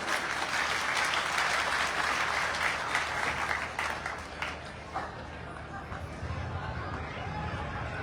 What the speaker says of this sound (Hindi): मीरा जी के लिए इतनी आप तालियां बजाएं।